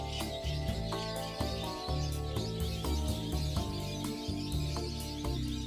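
A crowd of parrots at Lutsk zoo in Ukraine calls from an enclosure: overlapping squawks and tonal, harmonic calls repeat in short bursts over a steady chattering background, moderately close.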